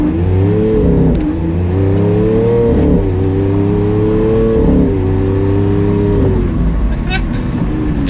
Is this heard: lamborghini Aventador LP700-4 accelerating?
yes